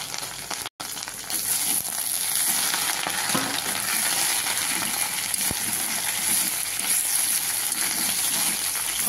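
Shushni greens fry in a pan with salt and turmeric, a dense, steady sizzle hissing loudly and evenly after a brief cut at the start, with faint stirring beneath.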